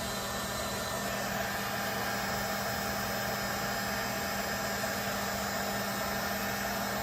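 A heat gun blows steadily over epoxy resin on a white ink swirl over a glitter base, its constant broadband whoosh and low hum running unbroken and fairly quiet throughout, with no voices.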